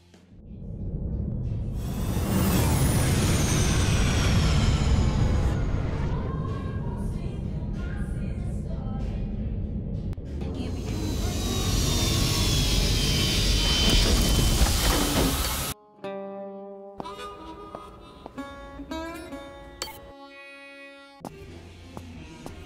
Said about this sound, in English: Docking request received. Automatic landing sequence initiated.